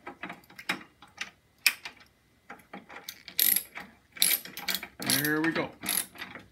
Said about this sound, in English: I'll get my wrench back in there and hopefully catch that nut.